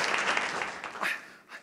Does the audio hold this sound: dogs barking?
no